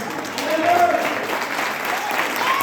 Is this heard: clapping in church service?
yes